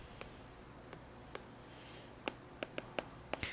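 Pen or pencil writing on paper: faint, close scratches and small taps in an irregular run, growing more frequent toward the end, with no talk.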